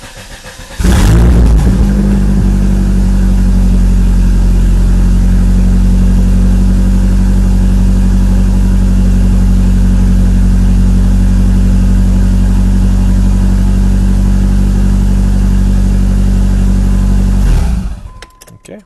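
A turbocharged Dodge car engine cranks and catches, then settles into a loud, steady idle rumble heard up close for over fifteen seconds before cutting off abruptly near the end.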